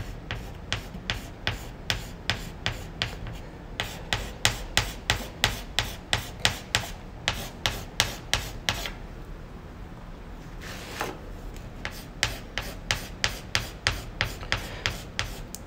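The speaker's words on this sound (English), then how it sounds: "I can use the blunt part of the chalk as well to make really heavy strokes" The blunt end of a stick of chalk makes heavy strokes on a board, a rapid series of close, scratchy rubbing swipes in steady rhythm, broken by a brief pause midway before resuming.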